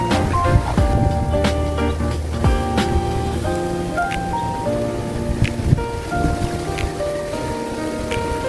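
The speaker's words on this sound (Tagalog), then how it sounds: "Nabutan na tayo ng ulan" Steady rain pours down on an outdoor garden plot where asparagus seedlings are being planted, a dense close hiss with scattered sharper drops spattering nearby.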